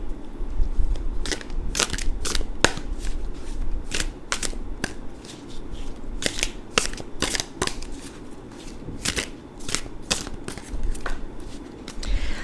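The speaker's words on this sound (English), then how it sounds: "I like to shuffle that way, as you probably saw" A series of sharp, crisp tarot card riffles and snaps, repeating irregularly over a soft background rustle, close and fairly loud with no talking.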